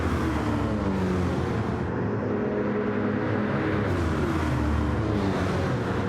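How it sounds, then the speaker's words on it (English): V8 race cars roar through the S-bends of a circuit in a racing video game, a continuous layered engine drone with shifting pitch as several cars pass close by. "Oh, the cars sound great through there."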